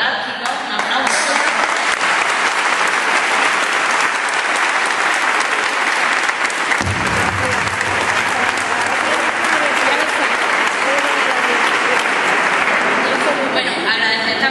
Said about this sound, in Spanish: Y a esos técnicos tan fantásticos, un aplauso.